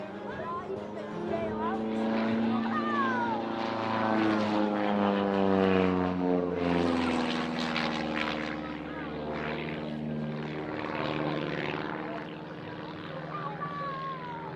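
Propeller aerobatic plane at an outdoor air display, its engine droning steadily and shifting pitch through a stall turn near zero airspeed, with a commentator talking over it throughout.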